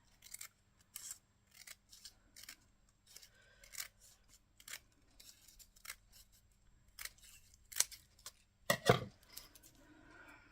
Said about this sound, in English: I'm going to be sneaky and cut it down the middle here.